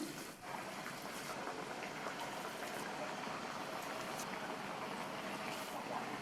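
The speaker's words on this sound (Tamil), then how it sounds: "இப்போ ஒவ்வொன்றா எடுத்து எண்ணெயில் சேர்த்துடலாம்." Thavala vadai, crisp lentil fritters, dropped into hot oil to fry, giving a steady, dense bubbling sizzle that runs evenly and fairly quietly throughout with no voices.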